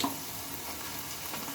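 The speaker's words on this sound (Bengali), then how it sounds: "বড়াগুলো কিন্তু একদম ভেজে নিচ্ছি আমি, বেশ লাল লাল করে উল্টে পাল্টে মুচমুচেভাবে" Lentil fritters deep frying in hot oil, a brief, steady bubbling sizzle at moderate level with no other sounds.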